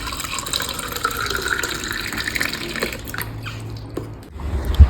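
A kitchen tap runs steadily, producing a close, continuous splashing water sound with a faint rumble near the end.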